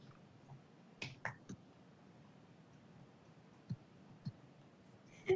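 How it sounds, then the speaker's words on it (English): Scattered, faint snaps and clicks heard at intervals in an online council meeting, with no talking. "The awkward virtual applause."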